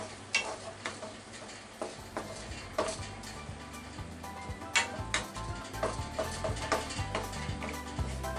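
Fried shirataki noodles made from devil's tongue stirred in a pan with bonito stock, giving steady scraping and tapping strokes over a soft sizzle at close range.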